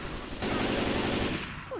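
Left 4 Dead 2 gunfire in a continuous, rapid automatic burst lasting about a second, dense and loud against a noisy background, then cutting off.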